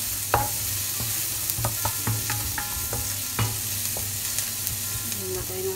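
Garlic fries to golden brown in a pan with a steady close sizzle, broken by light scraping and clinking stirring strokes.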